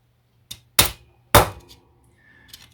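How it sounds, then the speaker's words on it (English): Sharp metallic taps of a sharpened brass tube striking thin lithoplate to press a ring around a dimple on a model Blackburn Monoplane: three distinct close strikes, the last two loudest, followed by a faint tap. "you should use a piece of sharpened brass tube that's just a bit bigger than the dimple on the flip side"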